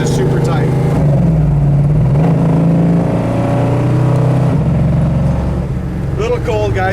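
A 1970 Pontiac GTO cruises down a road in freezing cold, its engine a steady low rumble heard from inside the car, with someone talking over it throughout.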